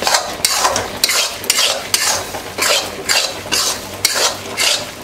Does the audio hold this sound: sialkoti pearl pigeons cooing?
no